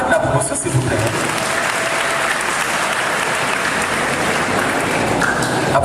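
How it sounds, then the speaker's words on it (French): A graduation ceremony audience claps in a dense, sustained round of applause, loud and close throughout, with a brief voice near the start. "Je vous demande encore d'applaudir le parrain de la promotion"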